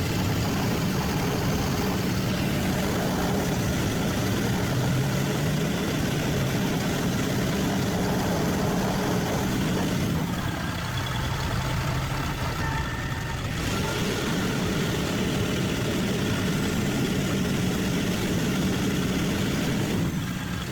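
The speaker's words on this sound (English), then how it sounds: "The winch works fine." A winch runs on the jib of a 2015 Terex 5TC-55 bucket truck, heard as a steady mechanical drone over a continuous idling engine, with a brief shift in tone partway through.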